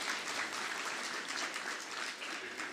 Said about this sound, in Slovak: zaslúžia si potlesk, máte pravdu.